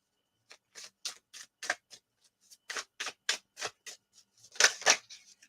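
Tarot cards shuffled clumsily by hand, a quick run of sharp, papery riffling clicks and flicks in uneven bursts, fairly close and fairly quiet, with no talking.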